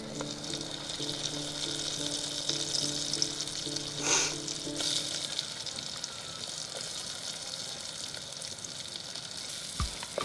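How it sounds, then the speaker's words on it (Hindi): Chopped onions with a spoonful of turmeric fry in a pan over a wood-fired stove, giving a steady soft sizzle and crackle with a brief stirring scrape partway through and a faint knock near the end. "बस प्याज ही भुने हैं अभी हमने"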